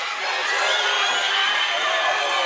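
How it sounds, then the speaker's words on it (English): Hyped-up crowd at a fight between Corey Caad and Andreas Katzourakis, a dense sustained roar of cheering and shouting, loud and continuous throughout with no distinct voice standing out. "Man, this crowd is hyped up."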